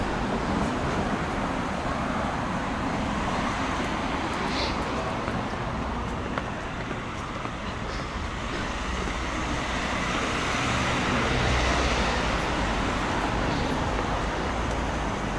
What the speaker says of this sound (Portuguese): Muitos carros.